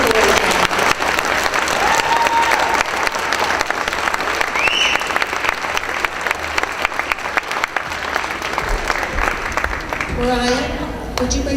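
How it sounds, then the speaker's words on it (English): Sustained audience applause in a school hall after a sixth grade music program, a loud, dense crowd of clapping hands that continues steadily, with a few faint voices and whistles mixed in before the clapping thins near the end. "could you give them another round of applause?"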